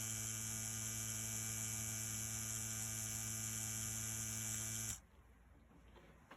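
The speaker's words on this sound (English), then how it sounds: "I'm going to use this machine right here to audibly let you all hear the different tensions" A tattoo machine fitted with an InkClaw needle cartridge set at tension 1 runs with a steady, loud electric buzz for about five seconds, then cuts off abruptly, leaving quiet room noise.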